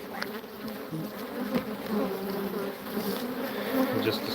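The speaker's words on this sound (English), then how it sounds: "A bunch of bees at top." Bees at the top of a strong hive in an out yard, fed fondant, make a dense, continuous buzzing hum that stays close and fairly loud throughout, with no voices.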